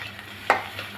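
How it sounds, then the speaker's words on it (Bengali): Egg and pointed gourd frying in a pan, a low steady sizzle with one sharp scrape of stirring near the middle and a fainter stir after it. "ডিমটা আমি লাল লাল করে ভেজে নিব"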